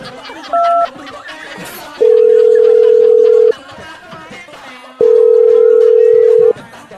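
A steady telephone tone sounds in two long stretches separated by a pause, loud and close, after a short beep and some faint background murmur.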